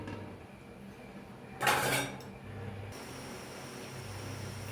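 A metal lid drops onto a pot of simmering fish curry in one short, bright clatter that rings briefly over a quiet kitchen background.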